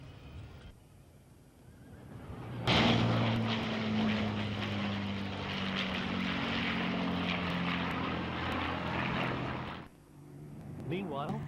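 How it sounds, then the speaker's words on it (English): Vintage Lancaster bomber making a low flypast over a runway at an RAF air fair, its propeller engines building into a loud, sustained drone with deep throbbing harmonics that cuts off sharply near the end. "the Lancaster bomber, flown by Richard Broombridge, makes a low flypast over the runway"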